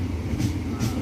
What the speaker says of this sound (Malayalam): ട്രെയിനിൽ പോകുമ്പോൾ ഇത് കേട്ടാലേ ഉറക്കം വരുന്നുള്ളൂ